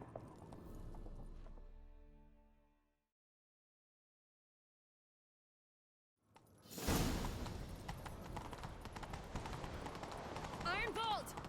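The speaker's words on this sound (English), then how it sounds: "Grab a horse, we'll chase him down." Horse hooves galloping in The Witcher 3, loud, rapid and continuous after a brief silence, mixed with voices talking and other game sounds.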